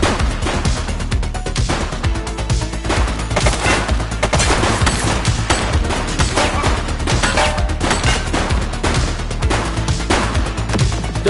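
Rapid gunfire from The Precinct on PS5, with dense overlapping shots and bursts running continuously and loudly throughout, with no talking.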